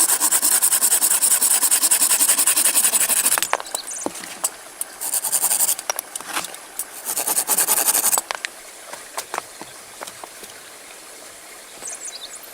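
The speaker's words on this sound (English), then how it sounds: "Sawing a thick stick, forceful cuts." A thick stick is sawn by hand with forceful strokes at a jungle building site, giving loud, close, sustained rasping bursts that break into shorter, quieter strokes before fading out.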